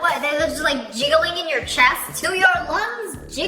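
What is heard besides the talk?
None of the usual background noises is heard.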